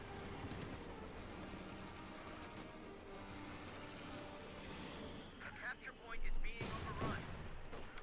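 Stuart light tank guns firing in a Company of Heroes 2 match: scattered shots and bursts over a dense, continuous battle din, with a louder burst of fire near the end.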